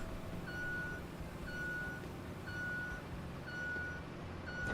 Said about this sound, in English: If Hank heard that beeping noise